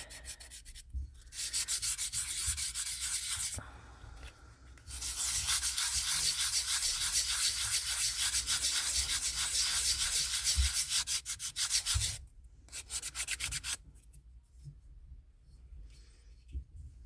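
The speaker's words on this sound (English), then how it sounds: "I sanded it on the top, but I didn't sand the edges. So let me get those." Sandpaper rubs along the edges of a cured resin craft piece in long, loud, close strokes, broken by a few short pauses and a quieter stretch of lighter rubbing near the end.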